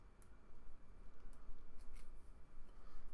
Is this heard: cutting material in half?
yes